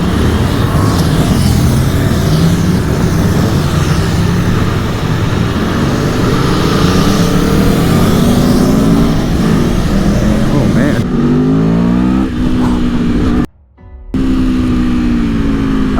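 An Aprilia Tuono V4 motorcycle engine drones loud and steady while riding, a low rumble rising in pitch through acceleration, with a brief dropout near the end.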